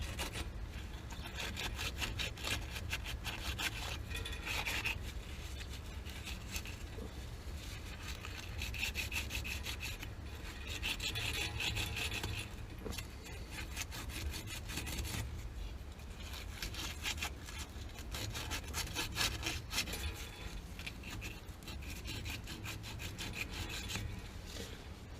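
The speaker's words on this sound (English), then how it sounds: "Get a little sandpaper." Sandpaper rubs back and forth in steady, rhythmic strokes during a water heater service call, a close, dry scratching that runs continuously for about twenty-five seconds without talk.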